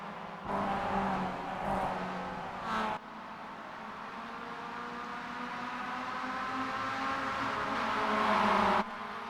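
Race cars lapping Okayama Circuit in the iRacing simulator, a steady engine drone with rising whine as the cars accelerate, fairly even and continuous throughout without speech.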